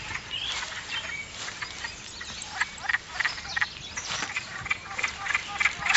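Wood frogs call from a forest pond, a dense chorus of duck-like clucking croaks repeating in quick bursts, moderately close and steady throughout with no other sounds competing.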